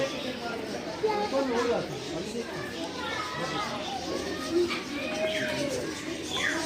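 Birds in a zoo aviary at Patna Zoo chirp and call amid a busy crowd, children's voices and chatter running throughout, with some coos mixed in.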